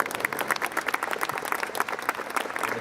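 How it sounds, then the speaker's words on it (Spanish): A crowd applauds the winning authors at a literary prize presentation, dense steady clapping from many hands filling the whole moment without speech. "Un aplauso para las autoras."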